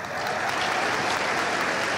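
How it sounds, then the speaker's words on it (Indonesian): Steady, dense applause from a studio audience at an Indonesian talk show, full and even for a couple of seconds with no voices on top. "Tepuk tangan buat saya."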